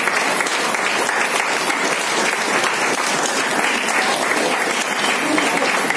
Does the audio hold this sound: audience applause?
yes